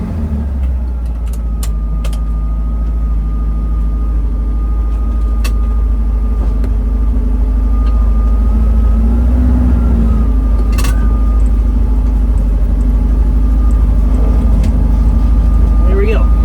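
An old Bradley GT2 kit car at a drag strip runs its engine at a steady idle, a loud, close, continuous rumble that lasts throughout with a few faint clicks above it.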